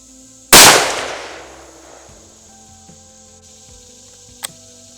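A Kimber 84M lightweight rifle fires a single loud, sharp shot during an accuracy group test, the crack trailing off in a long fading echo, followed by a faint metallic click a few seconds later.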